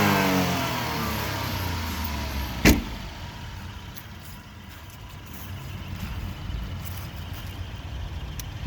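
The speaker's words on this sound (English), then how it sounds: "Little motor rev." Small engine of a Daihatsu Hijet S83P mini truck revving, a brief quick blip followed by a quiet, steady idle hum, nearby and fairly soft.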